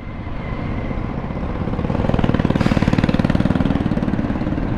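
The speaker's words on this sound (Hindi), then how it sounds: "मिक्सचर मशीन से इमारती मटेरियल ये सब नीचे गिर रहा है ट्रॉली में" A concrete mixer machine drops building material into a trolley at a roadside wall construction site over a nala, a loud, steady mechanical rumble that builds into a rapid rhythmic knocking.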